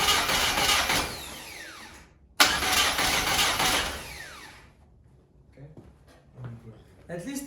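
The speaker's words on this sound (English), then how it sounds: "we're about to see if this engine is finally gonna start" A 2-liter 8-valve car engine cranks over twice with a steady whirring churn, each attempt lasting about two seconds, then stops without starting, leaving faint clicks and rustles.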